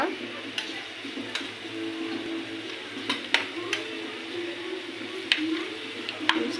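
Fish sizzles gently in a pan, a soft, even frying crackle under occasional sharp ticks and scrapes of a utensil, close and moderately quiet.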